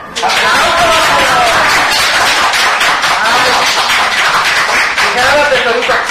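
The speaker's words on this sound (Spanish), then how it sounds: "un fuerte aplauso a nuestra amiga Azucena" A crowd gives loud, sustained applause and cheers for guest Azucena during an interview, dense continuous clapping filling the space with voices and laughter mixed in.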